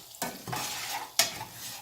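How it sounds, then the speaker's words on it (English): A spoon stirs a sugar mixture in a pot, a few brief scraping strokes with a soft bubbling hiss beneath, close and moderately loud. "Keep stirring."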